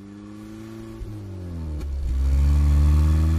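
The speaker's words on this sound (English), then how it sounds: "Look at all these cars" A car engine hums steadily and then revs up, growing louder toward the end as the vehicle accelerates nearby.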